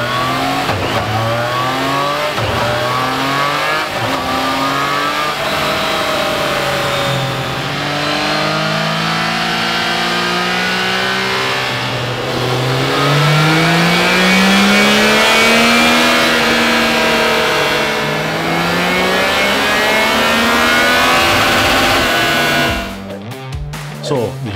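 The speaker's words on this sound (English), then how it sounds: "we're going to run it up on the dyno as we always do" Euro 5 Triumph Tiger 660 Sport motorcycle engine run up on a dyno, revving in repeated rising sweeps that climb and fall over the whole span, loud and close, cutting off abruptly near the end.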